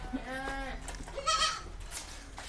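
A PE goat lets out a couple of close, wavering bleats, with faint people talking quietly nearby.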